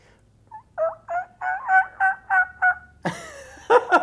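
A person imitates a female turkey call with the voice, a run of short, rhythmic yelps followed by a rougher, louder burst, close and clear with no other talk.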